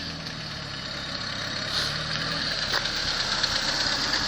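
Renault 8 engine running steadily behind the car at its first move, a constant mid-pitched hum with faint knocking, fairly close and alone with no talk.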